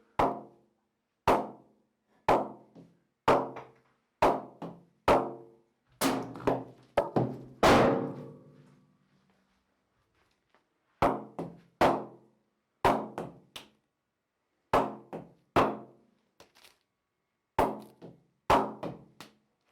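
Repeated sharp wooden knocks, evenly spaced taps on an English willow cricket bat, close and crisp, with a short pause midway before the tapping resumes.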